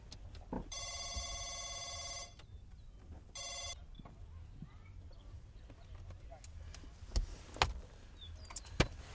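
A phone on a call rings unanswered, two bursts of an electronic ringing tone sounding clearly and fairly close, followed by a quieter stretch with a few sharp clicks and knocks.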